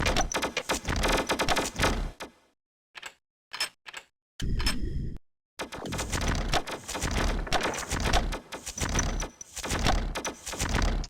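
Thunder cannons attack in the NetStorm Islands at War strategy game, producing dense bursts of crackling, booming noise broken by brief gaps and sharp isolated hits, with no talking.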